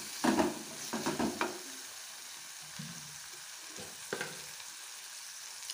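Egg bhurji masala and tomato sizzle in a pan, with a few brisk stirring scrapes near the start over a constant soft frying hiss.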